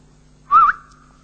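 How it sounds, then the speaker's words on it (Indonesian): A single short whistled note, rising slightly then holding, sounds once at moderate loudness over a faint low hum. "Memangnya yang nyanyi aja boleh bersiul"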